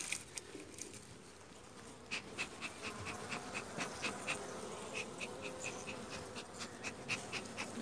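Honey bees buzzing around a weak hive outdoors, a faint steady hum with bees passing close in short repeated buzzes.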